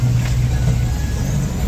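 A brief, steady engine drone and road rumble from heavy traffic on the old Panvel road in the rain, heard from inside a moving tempo traveller, close and continuous.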